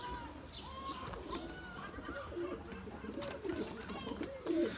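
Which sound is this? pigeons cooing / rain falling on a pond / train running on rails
pigeons cooing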